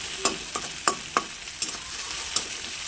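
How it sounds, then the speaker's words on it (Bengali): Onion frying in oil in a pan, with a steady sizzle broken by about seven sharp scrapes and clacks of stirring at irregular intervals, close and fairly loud, no voices. "পেঁয়াজটা একটু একটুখানি ভেজে নিতে হবে"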